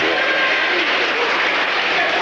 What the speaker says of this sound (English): A nice hand from the Oakland crowd as